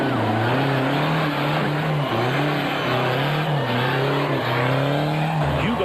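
A diesel-powered Ford Racing Ranger off-road race truck drives close by in a loud, steady engine drone, its pitch rising and falling with throttle changes through a few gear shifts over rough terrain.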